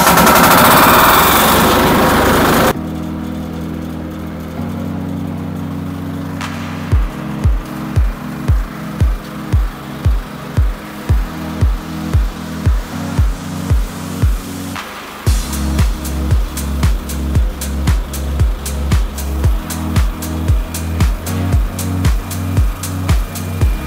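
A 20-horsepower diesel coconut husk processing machine starts with a brief burst of noise, then settles into a loud, close, steady chugging with rhythmic heavy thumps repeating at an even pace.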